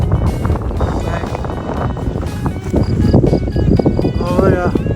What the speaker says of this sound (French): Bon là, il y a du vent là.